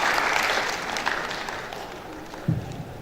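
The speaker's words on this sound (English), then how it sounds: "A warm applause as he comes while they prepare the national anthem." Warm applause from delegates at a national conference of estate surveyors and valuers, greeting an arriving dignitary; sustained crowd clapping that gradually thins, with a low thump near the end.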